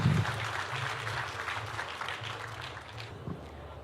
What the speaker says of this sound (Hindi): ज़ोरदार तालियों से इस्तकबाल करेंगे